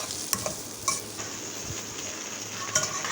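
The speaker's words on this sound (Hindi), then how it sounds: "बस हमने इसको फ्राई करना है, नरम नहीं करना हमने इसको।" Okra (bhindi) fries in a pan, giving a continuous close sizzle. A few utensil scrapes and taps break through, with no one talking.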